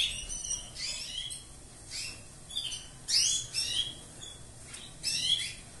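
Young canaries in a breeding aviary chirp in short, high bursts that come in repeated clusters, a bright twittering chorus at moderate distance with no talk.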